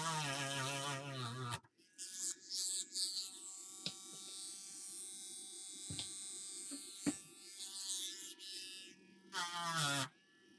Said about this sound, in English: this is a super aggressive grinder